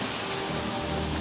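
Steady rain hiss in Seattle, a dense even patter with no voices, holding constant throughout.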